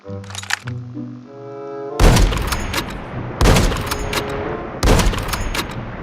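Gunfire in the mobile shooter Call of Duty Mobile: three sharp, loud bursts of rapid shots at roughly even intervals, preceded by a short musical tone, with no talk over them.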